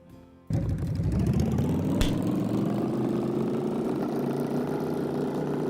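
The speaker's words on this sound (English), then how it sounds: "It's like a go-kart engine" A go-kart style engine sound from a Unity game starts abruptly after a short quiet lead-in, then runs as a continuous buzzy idle with a brief sharp click, heard loud and alone.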